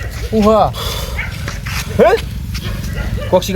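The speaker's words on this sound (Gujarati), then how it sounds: "કૂતરો આવે એવો અવાજ હતો" A dog barks in a farm field at night, with a couple of loud yelping barks a second or so apart and a shorter one near the end, heard under murmured talk.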